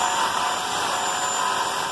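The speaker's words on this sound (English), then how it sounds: "to drill some holes" A power drill boring drainage holes into a small plant pot, a steady continuous whir held close and loud for the whole stretch, with no talk over it.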